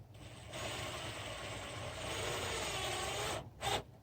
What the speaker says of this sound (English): And first screw's going in.